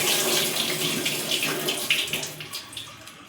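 Tap water runs steadily into a kitchen sink while soaked rice is rinsed, a continuous splashing gush close by with small spattering bursts toward the end.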